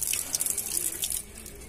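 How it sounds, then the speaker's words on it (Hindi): Water running from a tap at Bisalpur railway station platform, a bright splashing stream that gushes for about a second then thins out, close by with no talking. "अरे भाई यार पानी आ तो रहा है"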